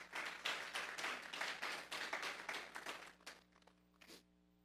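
A church congregation claps together in quick, rhythmic bursts that thin out and fade to a few scattered claps before stopping.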